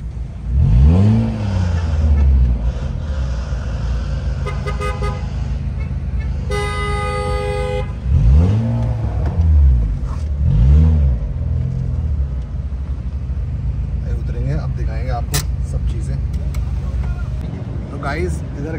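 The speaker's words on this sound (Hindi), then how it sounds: "Mini Cooper." A Mini Cooper at an international racing circuit revs hard in repeated rising and falling engine sweeps, loud and close, with car horns tooting amid the crowd and people chatting throughout.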